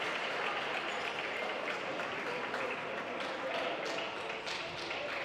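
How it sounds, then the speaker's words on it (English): Crowd applause fills a gym during a Sauk Valley versus Marshalltown men's college basketball game, a steady, dense wash of clapping that holds for several seconds, with voices mixed into the noise. "And round of applause for Chan Mallett, who's able to stand somewhat"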